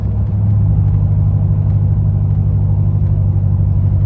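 A truck engine drones steadily at low pitch while cruising, switching in and out of V4 cylinder deactivation mode, heard from inside the cab under constant wind and tire roar with no clear breaks.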